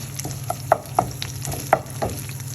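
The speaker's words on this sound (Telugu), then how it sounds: "ఎర్రగడ్డ ముక్కలను వేసుకోవాలి ఫ్లేమ్ని లో టు మీడియం నుంచి మీడియంలోకి అడ్జస్ట్ చేసుకొని ఇలాగే ఒక టూ మినిట్స్ పాటు వేగనివ్వాలి" Sliced onions frying in a pan on low to medium heat for an okra fry, a close steady sizzle broken by a few sharp popping crackles and light stirring taps.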